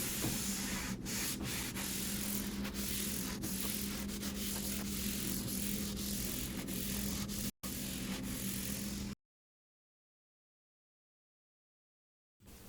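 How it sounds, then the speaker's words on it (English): Steady, continuous rough scratching of hand scuff-sanding a wooden dresser with a 150 grit pad, close and even, running for several seconds before stopping abruptly into silence. "I started scuff sanding by hand using a 150 grit pad on top of one of my interface pads."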